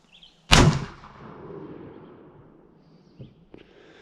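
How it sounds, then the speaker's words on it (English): A LeMat shotgun barrel fires a .62 caliber round ball in one loud, sharp blast. A rolling echo decays for about a second, then faint clicks and handling noises follow. "Third shot, 62 caliber round ball."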